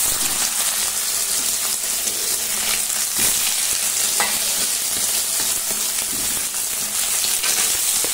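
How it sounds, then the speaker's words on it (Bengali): Soya chunks frying in a pan give a constant, close hissing sizzle with light crackles and occasional stirring scrapes throughout. "এবার সয়াবিনটাকে ভাজা হতে দিই।"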